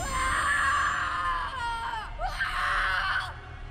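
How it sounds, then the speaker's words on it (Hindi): Agonized screams of a character surrounded and attacked by spirits in a haunted mansion horror story, two long sustained wailing bursts, loud and close, the second rising after a brief dip. "उसके बाद बस उसकी चीखें सुनाई दी।"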